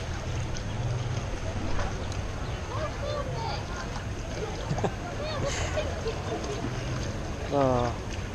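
Rubber dinghy riding a water rapid at Aquaventure waterpark, a continuous rushing wash of water with splashes and voices talking and calling out over it.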